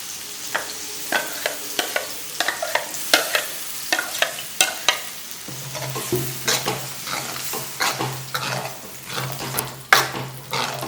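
Ground masala paste for a Malvani-style prawn curry sizzles in a hot pan while a spoon stirs it. Close, repeated scraping strokes ride over a steady frying hiss, and the sizzle grows louder midway.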